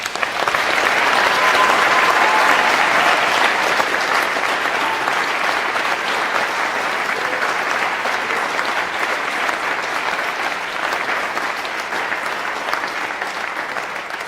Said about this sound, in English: I just want to, in front of everybody here, give William McIntosh a round of applause for all of that.